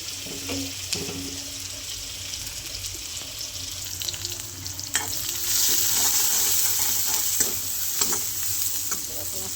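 Onion, cumin and curry leaves fry in a pan, a steady close sizzle that grows louder about halfway through and is broken by scattered stirring scrapes and clicks.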